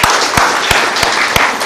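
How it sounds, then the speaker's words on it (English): At a social business design lab session, listeners clap for a presenter, with a few sharp, evenly spaced claps standing out loudly over a softer, thinner patter of hands. "let's give a big applause for Jahangir"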